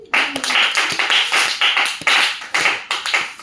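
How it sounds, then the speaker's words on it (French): A church congregation claps in praise, with bursts of rhythmic, fairly loud clapping in repeated surges across a few seconds, close and lively, with no talking. "Est-ce que d'abord on peut applaudir Dieu?"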